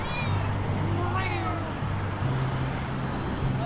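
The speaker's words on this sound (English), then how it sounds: "Oh, I don't know if we should touch this cat." A cat meows on a street in a Bangkok neighbourhood, one rising high call standing out over steady loud traffic and ambient noise, with a voice present in the background.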